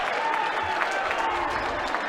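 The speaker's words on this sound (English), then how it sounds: "This Jimmy's crowd has traveled well" A basketball crowd at an NAIA men's game applauds and cheers in a steady, dense wash of clapping that fills the whole moment, with no break.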